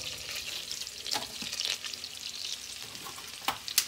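Shallots frying in a pan of melted oil and butter for a chilled corn soup, a soft, even sizzle with occasional spoon clicks and scrapes, close and fairly quiet, no voices.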